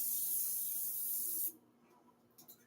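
A steady, close hissing spray from a cooking oil aerosol can runs for about a second and a half, then cuts off abruptly, leaving faint quiet handling sounds.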